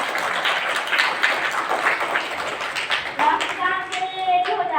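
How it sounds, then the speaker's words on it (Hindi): An audience at an Indian community event tied to a blood donation drive gives brisk hand clapping, with scattered voices including a child's, before a tonal sound takes over near the end. "एक बार जोरदार तालियों से स्वागत करिए।"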